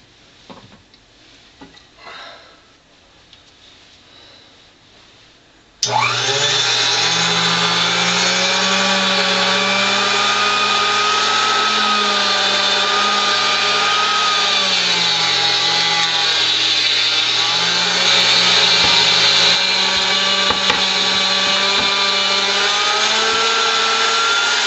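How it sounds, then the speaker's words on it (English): A meat grinder grinds pieces of fat for tallow, starting abruptly after quiet handling noises and then running as a loud, steady motorized whir with a wavering pitch for about twenty seconds. "This is actually the first time I've used this grinder too, so see how that goes."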